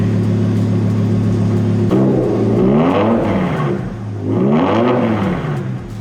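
A BMW E60 M5 S85 engine idles steadily, then revs up twice after a fuel pump upgrade, the pitch climbing and falling back each time, loud and close.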